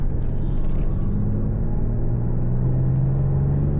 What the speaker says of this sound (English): you're just gonna hear the exhaust a little bit more with the sport mode